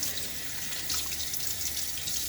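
Water runs steadily from a tap while a razor is rinsed during a wet shave, a soft continuous splash with no talking.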